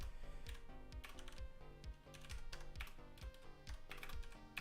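Rapid clacking keystrokes on a computer keyboard, close and steady, with quick irregular bursts of typing and no voices.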